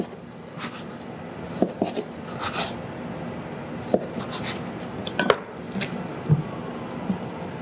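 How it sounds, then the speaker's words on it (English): Hands shape small balls of hot cross bun dough on a board, giving soft rubbing and patting sounds with scattered light taps and knocks, close and fairly quiet, with no talking. "I'm just going to make them into some tiny dough balls"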